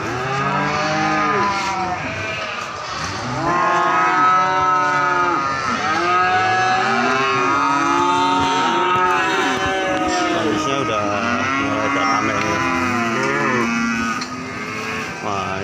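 Many cattle, including Limousin calves, low continuously at the Grabag cattle market in Magelang, a dense overlapping chorus of loud, close moos with a busy outdoor market hum behind them.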